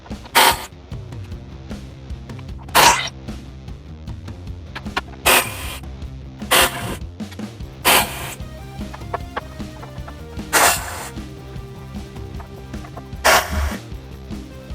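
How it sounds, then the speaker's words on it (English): Wrench, a 13mm, loosening the six inner hinge bolts of a Jeep JLU tire carrier: a series of sharp, close ratcheting clicks and squeaky creaks in irregular bursts over a low background hum, with no talk. "Let's go ahead and start getting these bolts here for the inner hinge."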